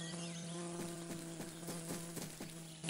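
A cartoon bee's buzz hums steadily under a bright animated music score, a continuous insect drone with small rhythmic pulses, close and moderately loud with no voices.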